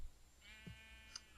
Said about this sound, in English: Oh, and now there's sheep.